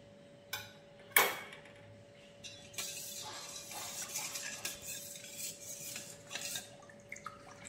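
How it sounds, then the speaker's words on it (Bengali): Strained yogurt starter being whisked by hand for mishti doi, giving soft scraping and light clinking of utensil against a bowl, with a couple of sharper taps early on, quiet and close. "সেটাকে খুব ভালো করে ফেটিয়ে নিলাম। ঠিক এইভাবে ফাটিয়ে নিতে হবে।"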